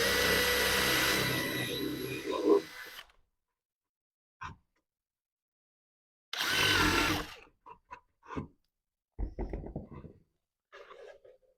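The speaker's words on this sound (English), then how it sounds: "I will take my 1/4" bit and drill a hole dead center" A power drill with a 1/4 inch bit bores a centred hole in a wooden picket for a pentagon bird feeder, whirring loudly in two short bursts separated by silence and scattered light knocks and clicks.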